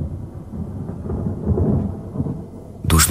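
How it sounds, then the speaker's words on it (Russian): A thunderstorm sound effect with a deep rolling thunder rumble across the whole clip, low and steady, building toward a loud, sharp crack near the end. "Вон и блеснуло бледно и тревожно. Идет гроза."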